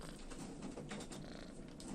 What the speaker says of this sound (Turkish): Kedi geldi arkadaşlar.